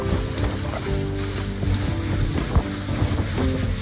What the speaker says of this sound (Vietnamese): Tụi mình sẽ đi bằng vỏ lãi nha.